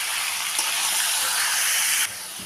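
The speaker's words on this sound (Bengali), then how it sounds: "এখন দিয়ে দিলাম ম্যারিনেট করে রাখা মাংসটা, চিকেনটা দিয়ে দিলাম।" Marinated chicken added to fried onions in a hot pan, giving a loud, steady broadband sizzle that briefly flares, then drops slightly near the end, with no talking.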